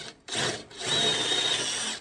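A hole saw drills into metal on a custom Norton Harley-Davidson hybrid motorcycle build, a close, loud whirring grind that starts, pauses briefly, then runs steadily with a high whine.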